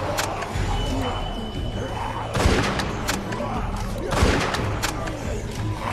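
Gunshots in The Walking Dead video game, a sustained burst of firing with two louder surges of shots, set against game ambience and a voice in the background.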